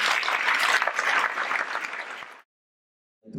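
An audience applauds at a film festival opening ceremony, with dense, close clapping for about two and a half seconds before it stops abruptly into silence.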